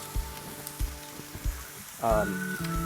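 Thin Big Mac-style beef patties sizzle on a Blackstone griddle, a soft steady crackle broken by several rhythmic scraping taps. A louder burst of sizzle swells near the end.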